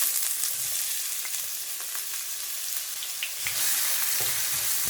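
Chopped onion and capsicum sizzle steadily in a pan with cumin seeds while being stirred, giving a constant close frying hiss with soft scrapes and no voices.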